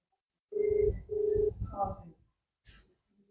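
A phone call to a doctor rings on the line twice in steady electronic bursts, followed by a brief muffled sound and a short click. No one talks over it.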